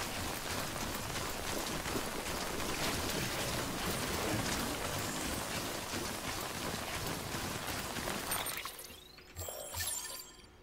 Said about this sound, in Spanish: Vale, llueve, pero no hay problema.